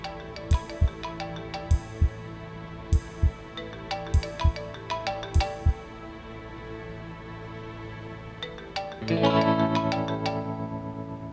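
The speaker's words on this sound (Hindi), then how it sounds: "मैं अभी एक नंबर डायल करती हूँ। रिंग जा रही है।" A phone rings after a number is dialled: a repeating electronic melodic ring pattern with bright, evenly spaced tones for about six seconds, then a pause, followed by a fuller, steadier tone near the end.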